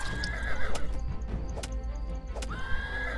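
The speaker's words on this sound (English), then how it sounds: "all the red and blue, like, horse-sounding creatures seem to do is, grab you" Red and blue horse-like creatures in the Starbound video game neigh and whinny repeatedly, with sharp clicking hoof-like beats, loud and alone with no talk.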